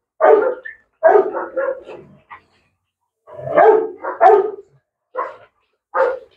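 A dog barks in loud, close bursts, several sharp barks in irregular groups with short quiet gaps between them and no talk.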